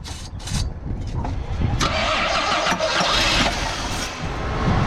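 Jeep CJ7 engine cranking and trying to catch with help from a jump starter, a continuous loud mechanical churn with surges in level throughout, close by and with no speech over it.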